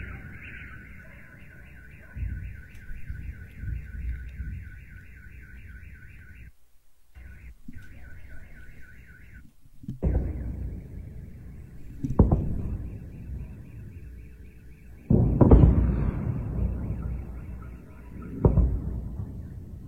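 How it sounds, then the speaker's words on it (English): Distant artillery shelling in Belgorod, with several deep low booms and rumbles thudding out at irregular intervals under a steady car alarm chirping in the background. "You'll hear some rumbles in the background."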